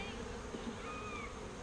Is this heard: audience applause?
no